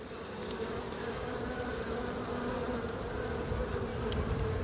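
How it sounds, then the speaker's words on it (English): A wide swarm of honeybees gives a dense, steady buzzing drone close by, with many wingbeats blending into one continuous hum and no voices. "So you can see this is a wide swarm, which is kind of unusual."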